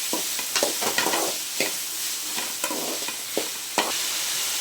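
Elephant foot yam pieces stirred in hot oil in a pan, with a steady sizzle of frying under repeated scraping strokes of a spoon, close and fairly loud, no talking.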